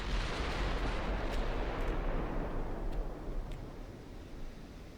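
Battleship main guns fire in the naval combat game Ultimate Admiral Dreadnoughts, a heavy, sustained roar of overlapping blasts and rumble that fills the whole stretch and eases slightly toward the end, with no talk.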